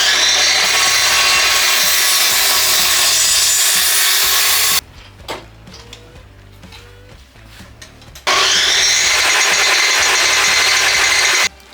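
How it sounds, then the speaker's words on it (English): Track saw plunge-cutting wood for a beehive-style compost bin, a loud steady whining cut that runs for several seconds, drops away to quiet clatter, then roars back up for a second sustained pass. "And we use the track saw now to make that plunge cut"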